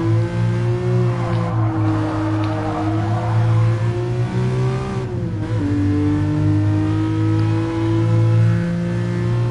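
A Ferrari Dino engine revs steadily in a racing video game from the in-car view, a loud sustained drone whose pitch rises and falls as the car accelerates and shifts, with no talk over it.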